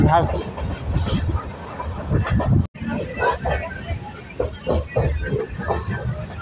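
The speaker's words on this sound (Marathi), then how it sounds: "हे आपण झाशी रेल्वे स्टेशनवरती आता आलेलो आहोत" A train at Jhansi railway station, its rumbling rolling noise filling the platform under a speaking voice and the babble of a crowd, with a brief break midway.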